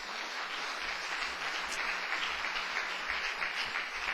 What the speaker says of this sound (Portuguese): Agora você pode dar outra salva de palmas para o Senhor.